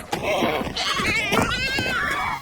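A goat bleats loudly and close, a long wavering cry stretched over a couple of seconds, with some overlapping voice-like sound beneath it.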